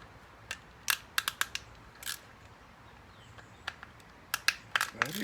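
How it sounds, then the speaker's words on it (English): Sharp clicks and small metallic ticks come from undoing four screws on a part of a 1983 Yamaha XJ900 Seca motorcycle being restored, scattered irregularly and close against a quiet background. "I'm gonna undo these 4 screws and see if that'll rotate 180 degrees."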